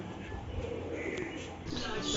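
Pigeons coo softly in the background while a person talks nearby.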